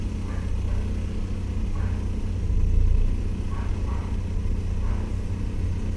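A Chevrolet Blazer S10 engine idles steadily, a low continuous rumble with a brief swell near the middle, heard alone at close range.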